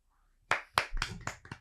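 Hand claps in a podcast studio: a handful of sharp, close claps in a loose rhythm in an otherwise quiet room, preceded by a faint murmur.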